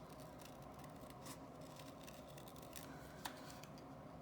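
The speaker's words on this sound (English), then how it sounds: "I'm just going to fussy cut round" Scissors snip around designer paper in quick, soft, irregular cuts, faint and close, with no talk.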